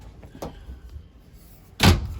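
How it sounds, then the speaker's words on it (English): A small latch in an RV bedroom slides across, two short clacks, a faint one early and a louder sharp one near the end, in a quiet room. "you just kind of got this one little latch. Just slide that over"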